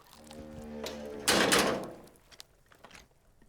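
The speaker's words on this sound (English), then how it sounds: "The container sounds a muffled gong." A single dull metallic thump from a container in the video game Disco Elysium rings out like a muffled gong, blooming briefly and then fading into quiet.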